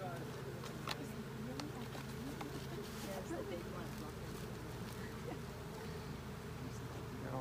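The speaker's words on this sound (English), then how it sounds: "these bees in the jar are going to get angry and put off the alarm pheromones" Steady, dense buzzing of many honey bees close by inside a jar, continuous and muffled, with faint voices underneath.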